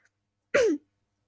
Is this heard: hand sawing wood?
no